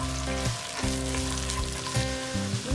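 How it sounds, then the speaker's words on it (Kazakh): Onions frying in hot oil, cooked until golden, give a steady, close sizzle that keeps going with no break. A faint tonal hum runs underneath. "Үстіне пияз саламыз"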